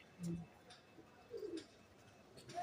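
Pigeons coo softly in a few brief, low bursts, fairly faint and spaced apart against a quiet background.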